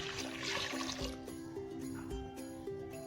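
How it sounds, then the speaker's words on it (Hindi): Roughly a kilogram of water is poured into a cooking pot, giving a splashing rush for about the first second before settling into quieter trickling over a steady tonal background. "मैंने अब इसमें मैं पानी डाल रही हूँ, 1 किलो तकरीबन 1 किलो पानी है ये।"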